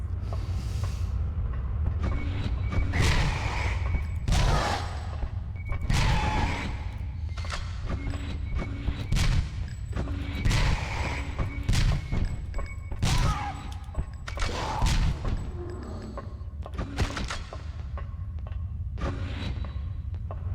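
Shotgun blasts ring out in the PS1 game Alien Resurrection during a Maximum Security level, a series of punchy booms repeating roughly every second or two over a constant low rumble of game ambience.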